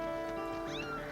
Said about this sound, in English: Let's get this cat safely back to Instructor Hallwell